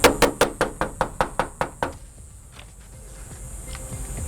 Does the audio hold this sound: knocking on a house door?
yes